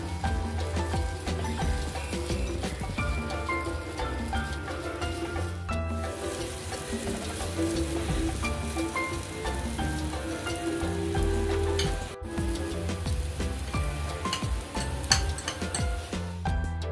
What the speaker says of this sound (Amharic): መጥበሻችንን እናግልና ትንሽ ዘይት እንጨምራለን። ከዛ በዚህ መልኩ መጋገር እንችላለን።